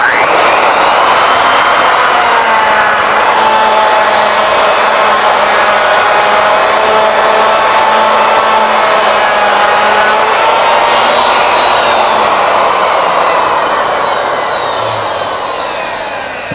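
Router cutting wood on a Legacy ornamental mill, circling the circumference of the workpiece, a loud continuous high-pitched motor whine with steady cutting noise that tapers slightly at the end, close and alone.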